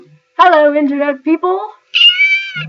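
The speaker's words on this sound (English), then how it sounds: "I apologize for any cat noises you might hear in the background, such as that one just now." A cat meow used as a text message notification sound rings out twice, close and clear, between and after a person's spoken greeting.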